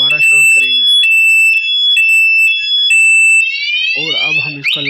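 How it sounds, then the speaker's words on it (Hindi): Anti-theft alarm on a Honda CG 125 motorcycle, set off by shaking the bike: loud, close electronic beeping tones that shift into a rising warble, with a voice speaking briefly at the start and end. "अब ये बाइक हल्की सी भी हिलाएंगे तो ये शोर करेगी"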